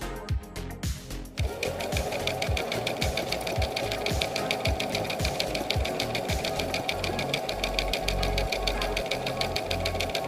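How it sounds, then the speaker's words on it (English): Sewing machine stitching a ball gown bodice, a loud, close, rapid mechanical chatter running steadily for about nine seconds after a short stretch of handling noise. "now it's time to get it onto the sewing machine"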